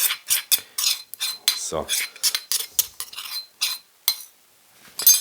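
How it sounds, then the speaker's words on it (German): Utensils stir dressing into a zucchini salad in a bowl, making a series of close clinks and scraping taps with brief pauses, one short spoken word near the start. "Einfach alles nochmal umrühren und rein."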